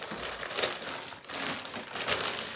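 Maisons du Monde glass tableware, including a glass carafe, being unwrapped from its packaging: continuous close crinkling and rustling of wrapping with brief pauses.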